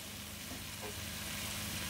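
Beef tips browning in a pan with seasoned salt give a steady, moderate sizzle with soft crackling that holds evenly throughout, with no one talking.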